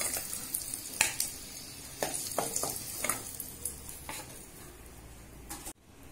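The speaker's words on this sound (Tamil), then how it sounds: "நம்மளோட முட்டை எல்லாம் நல்லா ஃப்ரை ஆயிடுச்சு பாருங்க" Eggs fry in oil in a pan, giving a quiet, steady sizzle with scattered crackles and pops throughout, close by and with no talking.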